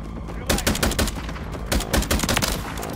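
Loud bursts of automatic STG rifle fire in MW3 Zombies gameplay, rapid rattling volleys with short gaps between them, close and dominant in the mix.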